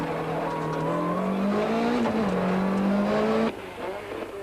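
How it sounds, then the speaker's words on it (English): A 1993 Golf Synchro four-wheel-drive rally car, among Class A cars climbing mountain-pass hairpins, revs hard with a loud, close, sustained engine note that rises and dips through the bends, then drops abruptly near the end. "Jan Habig and Martin Buerter attack the pass in their Golf Synchro, using the newfound extra power to good effect"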